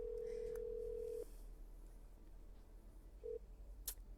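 Telephone dialing in the video game I'm Not Human: a steady tone holds for about a second, then a short beep follows, quiet and alone with no speech.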